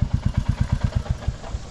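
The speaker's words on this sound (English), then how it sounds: "Shut the engine." A motorcycle engine idling close by with a steady, loud, low thumping pulse that loosens and fades slightly toward the end.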